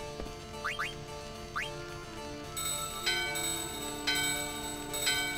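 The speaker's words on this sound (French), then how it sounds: "La porte résonne avec votre cloche." A door bell rings in the Final Fantasy IX video game, several bright metallic chimes and short rising tones over a quiet music bed, each strike ringing out briefly.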